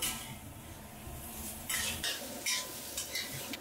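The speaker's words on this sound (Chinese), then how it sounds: "把苦瓜倒下去炒一下" Bitter melon tossed in a wok over medium heat alongside ginger, garlic, scallion, chili and fermented black beans: steady soft sizzle with repeated scraping and clinking of a spatula against the metal pan, no voices.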